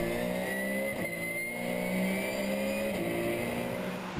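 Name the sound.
Porsche GT3 race cars racing at Zandvoort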